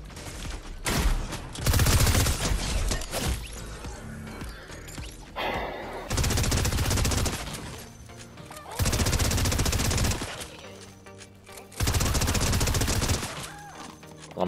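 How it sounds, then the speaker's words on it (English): Rapid bursts of SMG gunfire in a shooter video game, several loud sustained volleys separated by short pauses, with no talking over them. "Llama has no chance against the rapid fire SMG."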